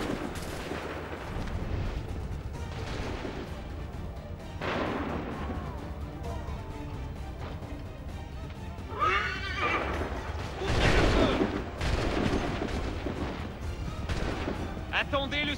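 Musket volleys boom in Assassin's Creed III: several heavy, broadband gunfire bursts roll out over a busy battlefield bed with horses whinnying and voices shouting in the background.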